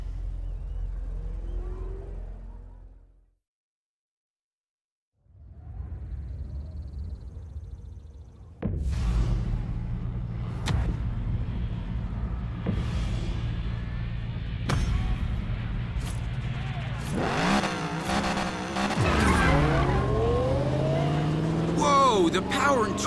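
A souped-up Mustang in the racing game Need for Speed Payback roars through acceleration, with engine revving and tire squeals rising near the end after a brief silence and some earlier dialogue.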